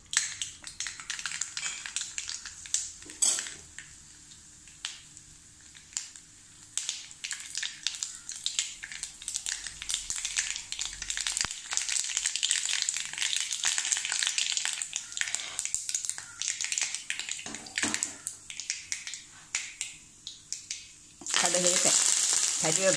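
Steady crackling sizzle of mustard seeds frying in hot oil, with scattered pops and light scraping, ending in a louder burst of sizzling.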